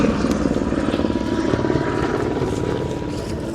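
A helicopter hovers close by at a forest fire, its rotor thumping in a steady rapid rhythm over a loud continuous engine roar that fades slightly toward the end, with faint voices underneath.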